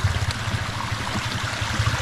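Water flows steadily from a ram pump setup on a farm in a continuous rushing trickle, close by and fairly loud, with no voices heard.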